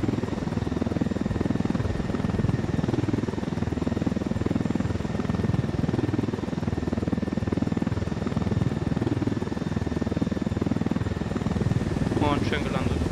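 Helicopter landing near tents in Ghost Recon Wildlands, a steady loud rotor and engine drone that continues evenly throughout, with a short burst of higher chirping near the end.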